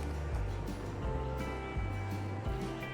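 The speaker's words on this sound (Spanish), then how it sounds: "Se escucha el río, pero no se ve nada" River near Curarrehue in southern Chile rushing unseen below a road, a continuous broad wash of flowing water with low rumbling beneath, moderately loud and steady.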